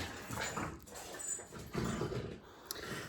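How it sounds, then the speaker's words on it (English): A dog indoors gives low growls and muffled barks in uneven bursts, moderately close, with a faint sharp sound near the end. "You probably can hear my dog"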